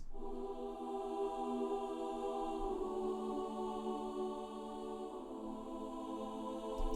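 Soft, sustained sampled choir voices hold an 'oo' vowel in smooth harmony, shifting chords slowly with no other sounds around.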